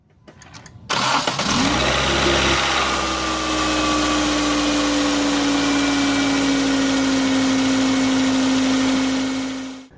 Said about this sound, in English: we're going to go ahead and turn on the engine to see if it's leaking.